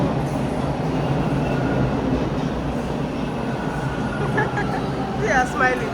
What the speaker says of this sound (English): then I saw my first train